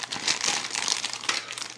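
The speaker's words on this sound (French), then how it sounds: "On enlève ce scotch" Tape peels off the plastic packaging of a Revoltech 113 Anubis ZOE figure with close, crackly crinkling and rustling in short bursts, fairly loud, with no talking over it.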